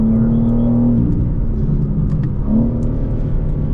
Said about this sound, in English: Let's go for a few laps and see what these cars can do.